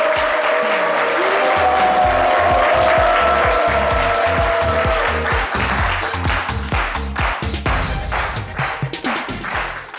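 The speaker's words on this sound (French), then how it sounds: "Je demande les meilleurs applaudissements pour Marie-Lucienne Huguesson." Studio audience applause on a French daytime TV set, a loud, sustained roar of many people clapping that carries through the whole stretch, with some voices mixed in and individual claps growing more distinct toward the end.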